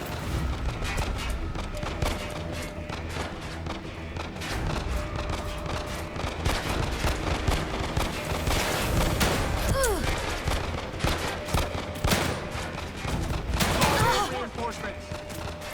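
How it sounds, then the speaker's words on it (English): Sustained gunfire from cover in The Evil Within 2, dense rapid shots and bursts repeating throughout, loud and close, with a few heavier booms mixed in. "And all you can do is shoot. But you seem to have infinite ammo."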